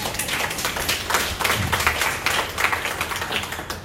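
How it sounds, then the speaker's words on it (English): Audience applause at a volunteer appreciation day, a steady wash of many hands clapping that carries evenly from start to finish with no voices over it. "Give them a round of applause."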